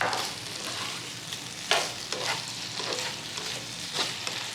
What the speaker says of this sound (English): I'm going to return the sausage and the shrimp to this.